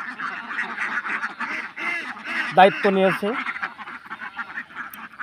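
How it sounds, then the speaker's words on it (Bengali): Ducks quack in a busy flock on a duck farm in Bangladesh, with a burst of louder calls near the middle, while a person talks over the birds. "এই হাঁসগুলো আস্তে আস্তে চলে যাবে।"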